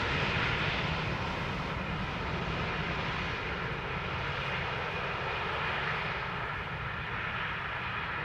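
A SunExpress jet taxiing toward the runway at Schiphol Airport, its engines a loud, continuous roar with a steady whine held throughout, close and alone.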